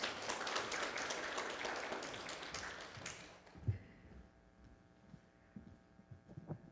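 An audience at a lecture applauds with dense, continuous clapping that stops abruptly partway through, leaving a quieter room with a few scattered taps and thumps.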